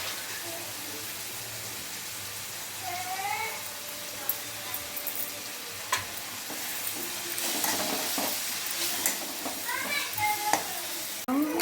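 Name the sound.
mushrooms frying and being stirred in pan with salt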